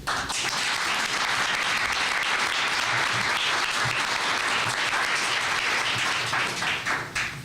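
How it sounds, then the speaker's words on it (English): A large audience at a talk on ending poverty in America applauds the speaker Bob Herbert, a loud, sustained, even roar of clapping that holds steady throughout with only a slight dip near the end. "give a big round of applause to Mr. Bob Herbert"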